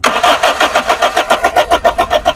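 Car engine cranking at a Sylhet driving school: a steady, loud, rhythmic chugging of the starter turning the motor over at close range, pulsing about five times a second with no catch.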